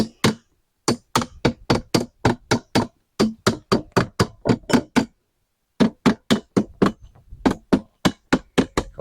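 Heavy-duty staples are hammered into a truck topper shell in fast, loud, evenly spaced blows: two long runs of sharp knocks split by a brief pause, close and without talk.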